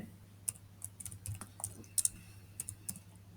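Typing on a computer keyboard while writing a line of C code, a quick irregular run of light key clicks, close but quiet, over a low steady hum.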